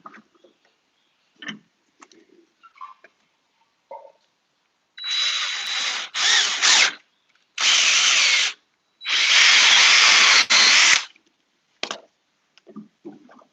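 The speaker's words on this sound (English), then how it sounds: "Drill a couple more holes here." A power drill bores holes in a craft piece with four loud, close bursts of whirring, each lasting about one to two seconds, set between quiet stretches with small clicks and handling sounds.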